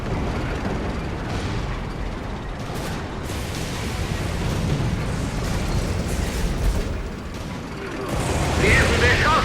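Explosions and gunfire rumble from the tank combat game Codename: Panzer Phase One, heavy booms and mechanical clatter rolling continuously, with a louder burst near the end, while voices shout over the fighting.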